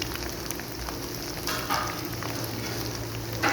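Egg fries in oil in a pan with a steady close sizzle and occasional stirring scrapes, constant and moderately loud with no talk.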